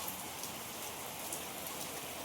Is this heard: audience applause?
no